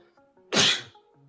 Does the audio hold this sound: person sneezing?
yes